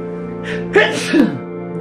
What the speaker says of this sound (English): I sneezed so hard the cookies broke